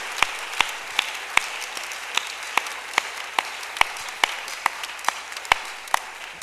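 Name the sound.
church congregation applauding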